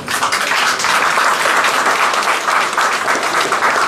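A hall audience breaks into loud, sustained applause, a thick continuous patter of many hands clapping with no pauses and no talking.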